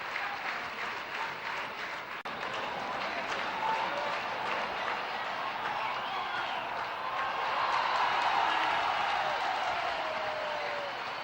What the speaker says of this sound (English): Fine applause for Manjrekar.